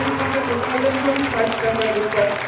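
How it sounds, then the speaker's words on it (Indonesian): Audience applause at the kick-off of a Honda-sponsored safety riding event, crowd clapping heard beneath a speaking voice and a steady tonal background. "Beri tepuk tangan yang meriah sekali lagi."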